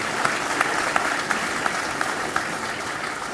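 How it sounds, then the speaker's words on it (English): A convocation audience applauds the chief guest and guest of honor, steady crowd clapping at moderate distance with a few sharper individual claps standing out at a regular rhythm. "Could you please have a huge round of applause for our chief guest and guest of honor."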